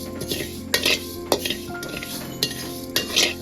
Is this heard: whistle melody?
no